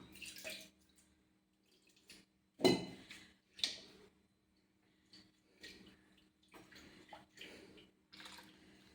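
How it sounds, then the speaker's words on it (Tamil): Water is poured into a vessel, then swished and splashed around to rinse it, in several separate sloshing bursts with quiet gaps between them, close and fairly soft. "கொஞ்சமாக தண்ணி ஊற்றி அலசி ஊற்றிக்கலாம்."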